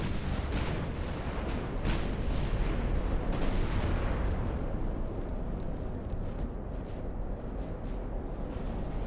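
Naval gunfire in the warship game Ultimate Admiral: Dreadnoughts, a dense rumbling roar of heavy booms and cracking shots, loud and sustained, fading slightly toward the end.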